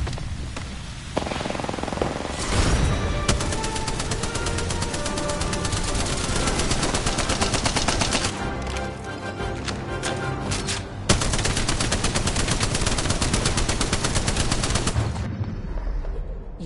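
Rapid automatic gunfire in the battle royale game Apex Legends: dense, continuous bursts of shots fill the clip, with brief breaks and switches between weapons and loud, close firing throughout.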